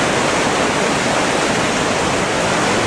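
Mill Creek near Walla Walla rushes loudly and steadily, a dense, unbroken roar of fast-flowing water heard up close.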